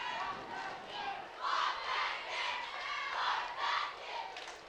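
A high school football crowd at Capital versus Shelton roars and shouts in rising, chant-like surges during a point-after kick, heard from a distance with a steady wash of noise and no clear talk.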